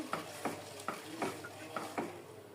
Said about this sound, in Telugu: ఇది హాఫ్ కప్పు ఒకసారి కలుపుకోవాలి బెల్లం కరిగే వరకు